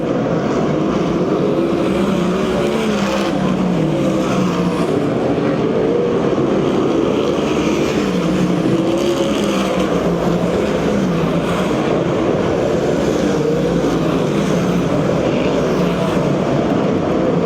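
USAC/CRA sprint cars race at Perris, California, their engines merging into a continuous loud roar that rises and falls slightly as they circle the track, with no voices heard.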